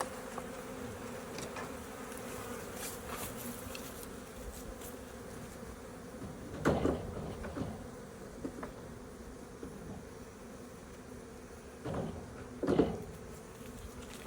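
Honey bees hum and buzz in a steady drone inside an open beehive brood box, with a few louder, closer buzzes and soft wooden knocks as frames are shifted.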